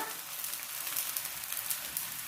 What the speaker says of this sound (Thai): พอน้ำเดือดแล้วนะคะ